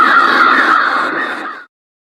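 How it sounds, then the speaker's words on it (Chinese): A dense swarm of mutant crows in an audio drama caws loudly all at once in a harsh, sustained chorus that fades out abruptly after about one and a half seconds. "此刻留在圈内的你们被一堆变异乌鸦围住"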